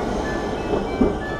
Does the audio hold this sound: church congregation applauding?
no